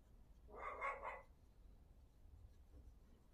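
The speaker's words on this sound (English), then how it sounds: "can hear my wee dog barking" A short burst of a few quick, high-pitched barks from a small dog, slightly distant, followed by quiet room noise.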